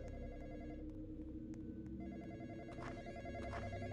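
A telephone rings with a continuous electronic bell-like tone inside the Roblox game The Graveyard Experience, steady and fairly quiet against faint background sound.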